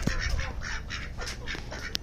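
Ducks quack repeatedly and fairly loudly close by in a backyard bird enclosure, a rhythmic series of nasal calls filling the short moment without talk.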